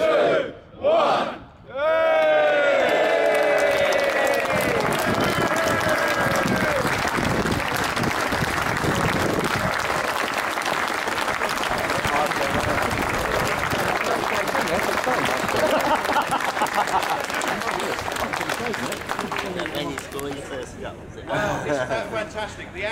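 A large outdoor crowd at a football stadium statue unveiling bursts into loud, sustained cheering, shouting and applause after a countdown, the roar staying dense and steady for about twenty seconds before thinning at the end.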